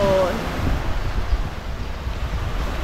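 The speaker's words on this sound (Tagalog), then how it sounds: "Ang ganda po ng dagat. Napakalinis." Sea waves wash steadily at a beach resort, a continuous near rushing surf mixed with wind buffeting the microphone, with a brief faint tonal sound at the start and no voices during it.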